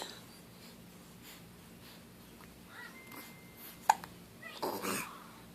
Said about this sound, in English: Those are wild hiccups.